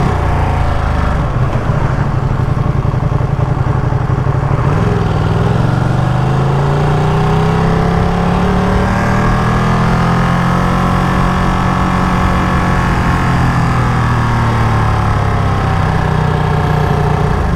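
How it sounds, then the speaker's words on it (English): A loud 2023 Ducati Panigale V2 V-twin motorcycle engine growls continuously up close, its deep rumble rising and falling as the rider revs and eases off. "Hopefully the microphone picks up, you know, the V-twin, the growl from the V-twin."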